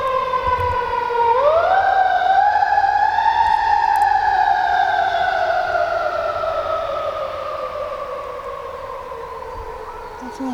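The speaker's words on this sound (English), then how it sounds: "Definitely a fire truck." A fire truck siren wails loudly, its pitch rising sharply then slowly falling and fading over ten seconds, heard outdoors at moderate distance from a vegetable garden.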